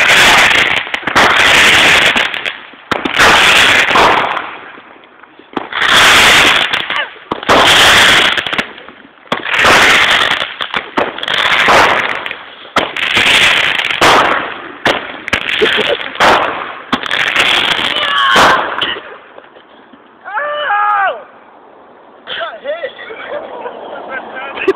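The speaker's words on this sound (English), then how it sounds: "Bottle rocket roll." Bottle rockets and firecrackers going off in a backyard firework war, a rapid series of loud crackling bursts and pops in uneven clusters, with people shouting and talking near the end.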